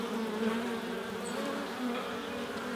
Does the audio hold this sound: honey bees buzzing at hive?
yes